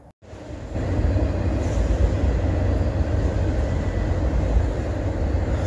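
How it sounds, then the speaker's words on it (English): A train passes at night with a sudden onset of a steady low rumble and rolling rail noise that holds at moderate loudness, heard fairly near with no talking. "So I got a bit of a train coming by here"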